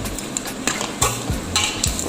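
Onions with salt being stirred in a pot, a utensil scraping and clinking against the metal in a few quick strokes over a soft sizzle.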